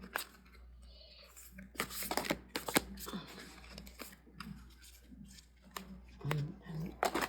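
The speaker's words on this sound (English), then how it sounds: "It's notoriously hard to shuffle multiple decks, but we're doing it." Several tarot card decks piled together and shuffled by hand, giving irregular papery riffles, slaps and rustles up close, with a person talking intermittently over the shuffling.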